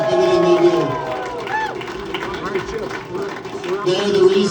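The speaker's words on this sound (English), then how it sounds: "give a bigger round of applause for all the bar and kitchen staff" A crowd at a sailing club regatta debrief claps and cheers for the bar and kitchen staff, a dense, lively wash of hands and voices with people talking and calling out over it throughout.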